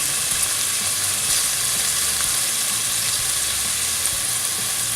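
Beef stew meat browning in a hot pan gives a steady, dense sizzle and crackle throughout, with no one speaking.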